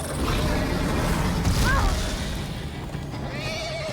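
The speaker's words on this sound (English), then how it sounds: "Horses." A horse whinnies sharply in the middle over a loud rumbling, busy backdrop of galloping horses in Minecraft: Story Mode, with another fainter neigh near the end.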